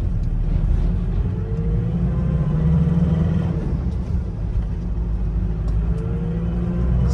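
A Mazda BT-50 pickup on a test drive after a new engine was fitted, an engine with a heat problem; a steady, heavy low rumble fills the cabin throughout, with no talking.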